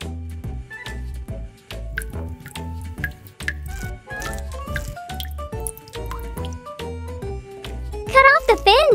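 A tiny fish rinsed in water in a miniature kitchen before cooking into curry, with close, repeated drips, splashes and squishy wet handling sounds, ending in a quick burst of pouring water, while people speak throughout.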